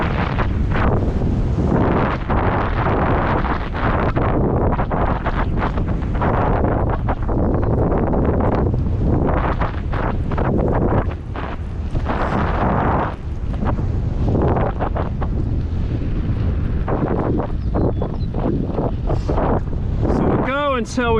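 Strong wind roars and buffets the microphone continuously as a cyclist rides into a headwind on a rural Texas road loop, loud and gusty throughout, with occasional talking mixed in.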